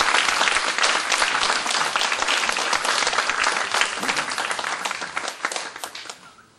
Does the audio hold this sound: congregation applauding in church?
yes